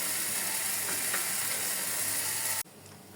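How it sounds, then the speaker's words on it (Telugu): Gram flour fries with tomatoes in a pan for an instant pappu charu, a steady close sizzle with faint stirring scrapes that cuts off sharply near the end, leaving a quieter hiss. "ఒక స్పూను శనగపిండి వేస్తున్నాను ఇది కొంచెం సేపు ఫ్రై చేసుకోవాలి"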